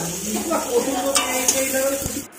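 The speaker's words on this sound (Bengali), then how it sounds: "মামনি আর এক সাইডে মোরলা মাছ ভাজা করছে" Small mola fish fry in a pan beside a simmering curry, a continuous close sizzle with light scraping and clinking of a spatula, brief and fairly loud.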